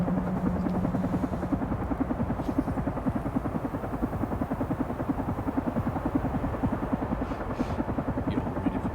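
A helicopter in the video game Carrion gives off a steady, loud rotor chop and engine drone that continues without a break.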